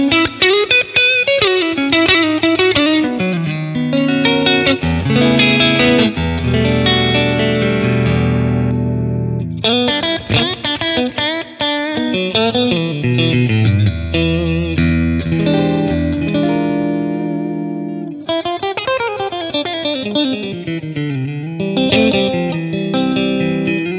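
A clean electric guitar through a Matchless Laurel Canyon amp capture plays flowing chords and arpeggios with a wash of reverb trailing each phrase, full and sustained throughout, no voices.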